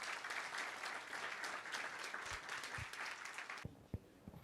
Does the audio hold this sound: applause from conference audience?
yes